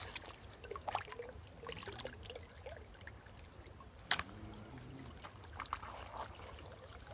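Water trickles out through a small channel cut in the soil, a faint, steady dribble with a few soft splashes and one sharper knock partway through.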